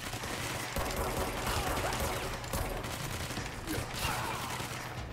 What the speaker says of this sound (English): Somebody's shooting like a grenade launcher at me